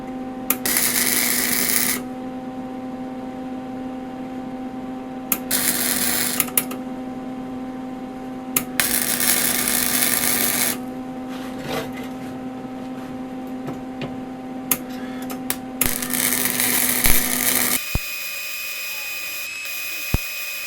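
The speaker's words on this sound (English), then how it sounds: "Let's weld it to this 1/4 inch somewhere." A 30-year-old Lincoln MIG welder fusing 1/8 inch steel to a 1/4 inch plate, with several bursts of loud, crackling arc noise lasting a few seconds each, separated by a steady mechanical hum, close by.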